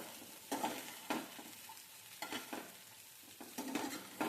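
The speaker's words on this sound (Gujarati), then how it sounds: "હવે વઘારમાં તમારે લસણની ફ્લેવર સારી લાગે એટલે લસણને કાળું કાળું બાળી દેવાનું" Garlic sizzling in hot oil for a tempering, left to scorch black, with several short bursts of stirring and crackle rising over a low steady fry, close and fairly quiet.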